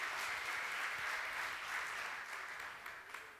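A church congregation applauds during a Sunday service, a dense, even wash of clapping at moderate distance that holds steady through the moment.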